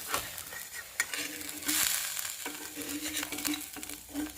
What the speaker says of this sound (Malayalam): ഇത് ഒരു ചട്ടുക ഉപയോഗിച്ച് ഇളക്കിയെടുക്കുക.